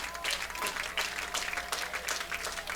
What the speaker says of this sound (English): They clap in rhythm.